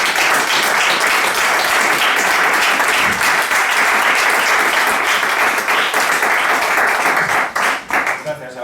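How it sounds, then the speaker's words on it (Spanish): Loud, sustained audience applause for Jesús Muñoz at a book presentation on a radio set, thick continuous clapping throughout that begins to thin out near the end. "¿Alguna cosa más o damos un aplauso a Jesús?"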